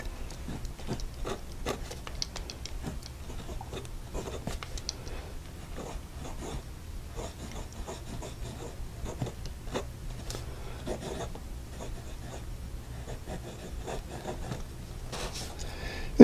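Fine fountain pen nib scratching across paper with glitter ink, faint close-up strokes and soft scribbly taps in an uneven rhythm.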